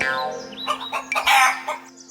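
A hen clucks and squawks in a few agitated bursts, close by, over a faint background tone.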